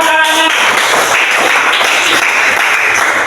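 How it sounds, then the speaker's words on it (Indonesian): Classroom applause for a pupil, a dense, loud burst of many small hands clapping together, steady throughout with a brief tonal sound at the very start. "tepuk tangan buat Alana"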